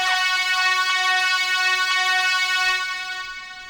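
A bright, buzzy high-passed saw stack synth sample played on a keyboard, holding one sustained note with stacked harmonics for about three seconds before fading, thin and without low end, alone.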